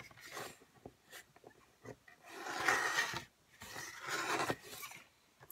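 Paper being cut for a graduation cap box, heard up close as soft rasping, scraping strokes, two longer drawn passes among shorter scratches, quiet with no voices.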